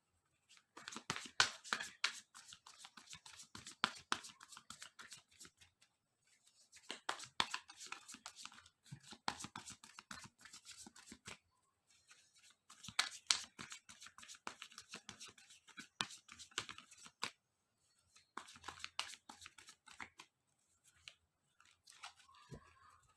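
Tarot cards are shuffled close up in repeated bursts of crisp riffling and slapping, several seconds each with short quiet gaps between, soft and intimate with no talking.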